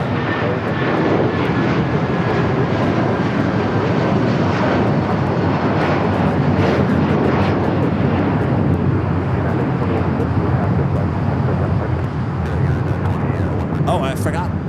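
An airplane at Los Angeles LAX airport produces a loud, continuous roaring engine rumble that holds steady and close throughout, with people talking underneath.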